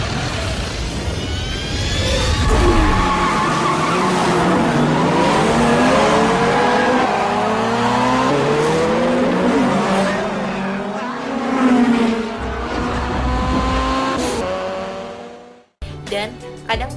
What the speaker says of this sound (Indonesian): Dan kadang tuh kalau ngerem tuh bunyi ciit gitu